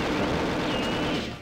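Continuous gunfire from the first-person shooter Perfect Dark, a dense, steady barrage of game gunshots that holds for over a second before tapering off, with no voices.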